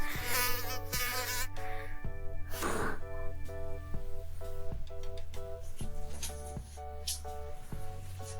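A thin, persistent whining buzz like a mosquito drones steadily over a tonal, repeating musical bed with pulsing low notes, with no clear speech.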